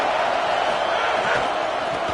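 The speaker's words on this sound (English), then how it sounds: "This crowd ready to make its presence known." A big stadium crowd at a football game roars in a steady, dense wall of cheering that holds at the same loudness without any break.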